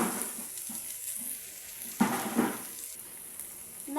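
Meat sears in a pan with an onion mixture for Yemeni saltah, giving a soft, steady sizzle close by, with a couple of brief louder bursts as it is stirred.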